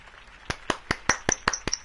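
Scattered hand claps from a small crowd after Harvey Dent's campaign speech in the Telltale Batman video game, about seven distinct sharp claps in a loose, fairly even rhythm, moderately close with no voices.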